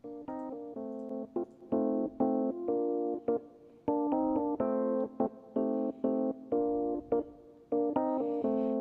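Electric piano track in a Logic Pro X mix with EQ and compression applied, a steady run of punchy chordal stabs and short notes at an even level, playing alone without any talking.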